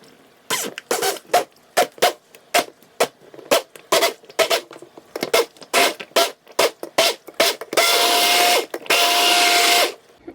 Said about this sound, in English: use my stick blender just to blend it all up